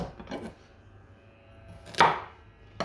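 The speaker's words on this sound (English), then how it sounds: "Now I want to julienne these carrots" Knife julienning carrots on a cutting board for an Asian salad, heard as a quick cluster of crisp cuts at first, then a single sharper chop and another near the end, with quiet gaps between.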